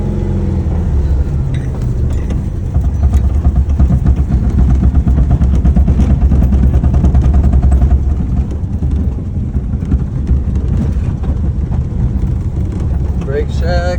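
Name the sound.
1970 VW Bug driving around the block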